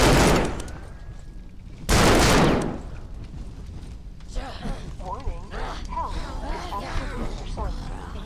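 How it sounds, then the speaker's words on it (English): Pistol fire in the video game The Pit Infinity: two loud, close bursts of shots ring out, then quieter game sounds continue as a voice talks over them. "you may need to use your gun. It's just a couple of bullets with the pistol"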